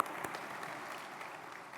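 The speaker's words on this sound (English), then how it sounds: "We're going to clap for Arup maybe 10 more times tonight," Gala audience clapping for an honoree at the National Building Museum, a short, fairly soft burst of applause from a crowd, steady throughout with no voices.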